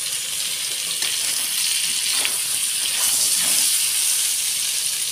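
Pointed gourd (potol) pieces coated in turmeric frying in a pan, a continuous close sizzling hiss that swells slightly midway, with no voices.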